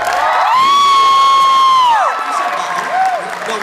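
A talk-show audience cheers and whoops loudly for a guest named Trisha, a sustained high shout rising over a crowd roar with some clapping underneath.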